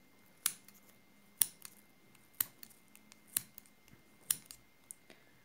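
Scissors snip through yarn wound on a pompom maker, giving five crisp, close, evenly spaced cuts with small clicks in between in an otherwise quiet room.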